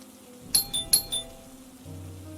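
A doorbell chimes twice in quick succession with a bright ding-dong tone, set against a quiet low hum in a horror radio story.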